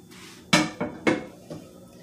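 Metal spoon scraping and clattering against a pan as shrimp, carrots and green peas are stirred into fried rice, four sharp close knocks in an uneven rhythm with no talking.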